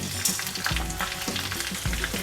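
Curry leaves, cashews and spices crackle and sizzle steadily in hot oil while being tempered for pongal, a dense continuous frying hiss with small pops and stirring scrapes, close up.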